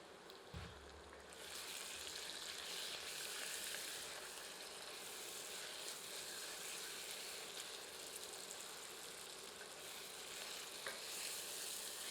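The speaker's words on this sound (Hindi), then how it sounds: "एक बार अच्छी तरह करछी चलाकर सबको मिला देते हैं" Marinated chicken fries with onions in a pan, a continuous hissing sizzle stirred with a ladle, opening with a low thump and scrape before the frying noise steadies.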